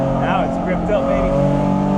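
A Nissan S13 track car with a swapped VQ35HR engine revs hard toward the red line, a loud close rising engine note with shifting harmonics from inside the cabin, with a driver speaking over it.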